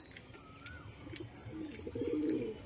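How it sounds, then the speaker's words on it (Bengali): Pigeons coo softly in a few low, throaty bursts near a pigeon loft, with faint chirps and light rustling around them. "দেখুন পায়রা দুটো"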